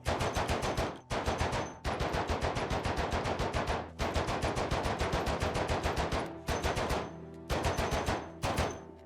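Sustained automatic gunfire rattles through the Project Zomboid zombie game, dense rapid bursts with brief gaps between them, loud and close throughout.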